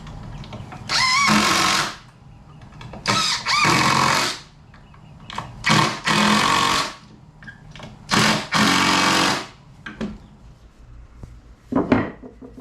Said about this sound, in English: So just get a couple pilot holes going here.